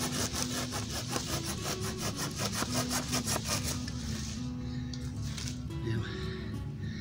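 A Silky hand saw cuts through maple hardwood in quick rhythmic strokes, close and clear, then slowing to a few scrapes as the cut finishes; a voice murmurs faintly in the background.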